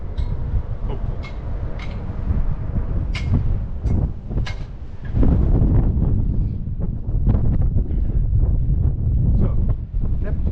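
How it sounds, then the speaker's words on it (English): Strong wind buffets the microphone on the open upper decks of the Diamond Princess cruise ship, a steady low roar that grows louder and rougher midway through, with a few faint clicks and thumps in the background and no talking. "They may consider today to be too windy."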